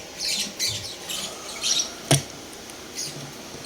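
Eyering lovebirds kept as pets give sharp, harsh squawks in a repeated series, with one loud click-like snap midway, fairly close with quiet background.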